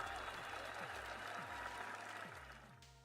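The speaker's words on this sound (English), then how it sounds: "If I do a cheer command, we hear the sound on Twitch." A crowd cheer sound effect, set off by a chat command during a live stream, plays as a dense burst of applause and cheering that stays loud, then tapers off near the end under a repeating low thump.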